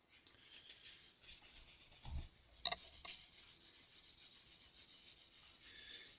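A cloth rag rubs tarnish off the frets of an Epiphone guitar with a rosewood fingerboard, giving a faint, continuous scrubbing swish with a couple of small knocks partway through.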